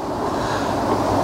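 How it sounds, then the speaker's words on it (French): Headwind by the water while fishing rushes steadily into the microphone as a continuous, loud broadband roar with no pauses or voices. "D'autant plus qu'avec le vent de face,"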